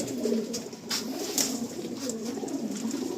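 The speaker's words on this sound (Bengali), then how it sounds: "এ তো ব্যাপক ছটফটে পায়রাটা" Soft, low pigeon coos repeat in a steady murmur, faint and close by, with light rustling and no talk.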